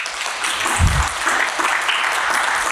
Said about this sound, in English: ask you all to give Mr. Jeremy Harte a round of applause